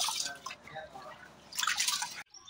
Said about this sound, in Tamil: அரிசியை வந்துக்கிட்டு நம்ம இப்போ களைஞ்சி எடுத்து அதை ஊற வச்சுக்க போகிறோம்.